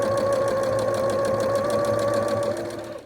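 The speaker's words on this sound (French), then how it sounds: "Je vais donc aller les remplir et ensuite faire la petite couture de fermeture." A sewing machine runs steadily while stitching a small closing seam on filled pieces, giving a continuous close, even mechanical whir for about three seconds before easing off at the end.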